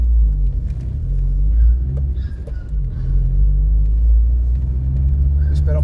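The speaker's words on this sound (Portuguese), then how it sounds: "tem um carro vindo aí" A car rolls along Rua Barão de Bagé in Porto Alegre on a windy day, a loud, steady low rumble close by, mixed with wind buffeting and no clear speech.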